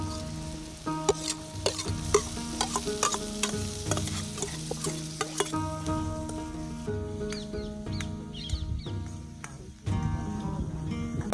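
Tomatoes stirred in a frying pan for a spicy soybean chunk curry: a spoon clatters and scrapes repeatedly over a steady sizzle, close and fairly loud, with the sizzle swelling near the end.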